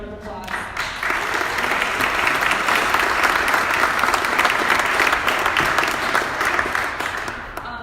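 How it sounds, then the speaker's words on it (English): A crowd at a community business event breaks into a long, sustained round of applause, building quickly to dense, loud clapping that holds steady before easing slightly at the end. "deserve a huge, huge round of applause"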